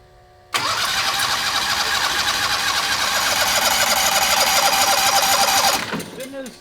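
A Turbo 670 dragster engine running on methanol cranks over loudly up close with a rapid, steady chugging rhythm for about five seconds, then stops. It comes in after a brief quiet moment.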